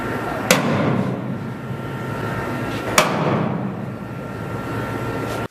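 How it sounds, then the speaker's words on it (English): A center punch strikes the sheet-metal floor of a 1967 El Camino twice, two sharp metallic taps a few seconds apart over a steady background hum. "I'll go through with the punch and mark each one of them so my bit don't slip"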